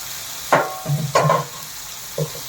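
Chopped tomato and capsicum go into a hot frying pan together for an egg curry, giving a couple of loud splashing sizzles and stirring scrapes, then a softer clatter near the end.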